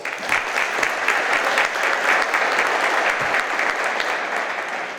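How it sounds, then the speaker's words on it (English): Sustained audience applause fills a police department annual service awards ceremony, a dense steady wash of clapping hands for the full length at even loudness. "Give him a round of applause."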